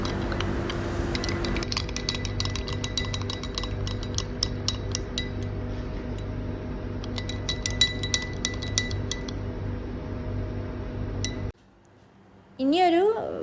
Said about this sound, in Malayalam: എന്നിട്ട് നമ്മൾ മധുരത്തിന് ആവശ്യമായിട്ടുള്ള പഞ്ചസാര ഇട്ട് നന്നായിട്ട് ഇളക്കുക